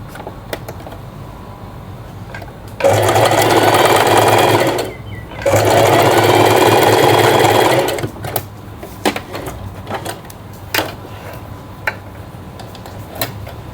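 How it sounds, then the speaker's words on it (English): A sewing machine stitches fabric pieces together for a tie-front top in two steady runs of about two and five seconds, separated by a short pause, followed by quiet handling noises. "and then I sew here from this point to this"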